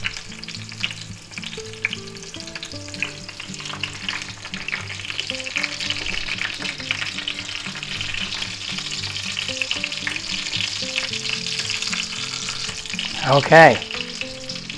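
Breaded chicken fries steadily in a pan after being flipped, giving a continuous close sizzle with light clatter near the end and a brief spoken word.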